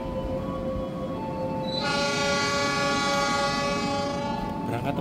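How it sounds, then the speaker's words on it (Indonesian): Ranggajati passenger train departing from Kutoarjo station, a loud sustained horn blast sounding over steady rumbling station and rail noise. "bel genta telah berbunyi untuk kereta api Rangga Jati diberangkatkan dari Kutoarjo"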